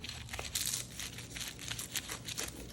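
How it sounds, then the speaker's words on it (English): A pizza cutter rolls through flaky layered apple pie baklava, producing soft, continuous crinkling and crunching close by. "Gonna cut into this with a pizza cutter."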